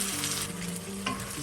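Vegetables stir-frying in a pan for chicken stir fry as sauce is poured in, loud continuous sizzling with scraping and stirring close by, a brief burst near the end.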